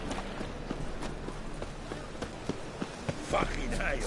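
Horse hooves clip-clopping in the video game Witcher 3, a light, steady series of hoofbeats at a walking pace under ambient game sound, with a few sharper knocks along the way.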